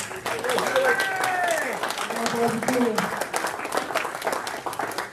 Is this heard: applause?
yes